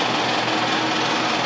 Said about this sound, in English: buffing shells